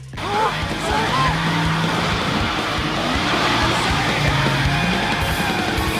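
Dodge Charger SRT8 drifting and knocking down mailboxes in a movie car chase through a neighborhood: a sustained, loud engine roar with tire noise runs steadily throughout, with shouting voices mixed in.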